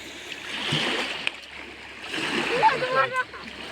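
Water is thrown low and splashes and sloshes several times nearby, with people talking over the splashing.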